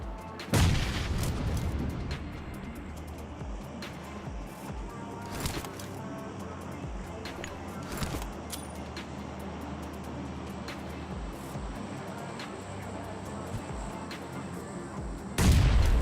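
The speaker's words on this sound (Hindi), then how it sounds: "अब ये वाला जो ग्रेनेड है वो मैं डालता हूँ नॉकडाउन वाले बंदे को फिनिश करने के लिए" Gunfire and grenade blasts in the mobile game PUBG Mobile: heavy booms open and close the passage, with scattered sharp shots and distant thuds between them, game sound alone without talk.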